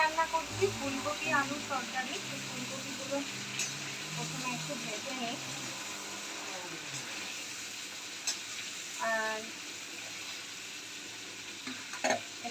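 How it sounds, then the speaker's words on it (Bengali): Khichuri of rice and lentils being stirred in a pot on the stove, with steady sizzling and scraping of the spoon throughout, while someone talks over it. "খিচুড়িটা এখানে মা বসিয়ে দিয়েছে আমি শুধু নাড়াচাড়ার কাজটা করছি"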